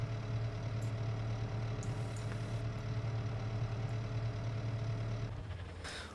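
A vehicle engine idles in the farming video game Farming Simulator 15, during municipal upkeep work with tree pruning and a Sprinter aerial lift. The low, steady drone runs continuously with strong harmonics, then eases slightly near the end, with no speech.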